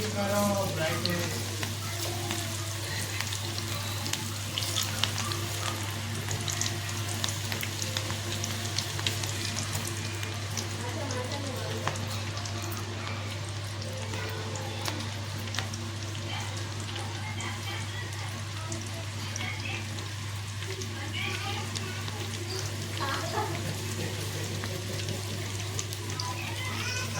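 Cabbage pakoda sizzles and crackles steadily in hot oil during cold rainy weather, with a continuous frying hiss and a low steady hum underneath.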